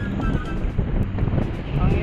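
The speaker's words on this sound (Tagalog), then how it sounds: "Sobrang hangin." Steady, blustery wind roars across the microphone at sea, a dense low rumble with choppy, rough waves beneath, while someone speaks faintly under the gusts.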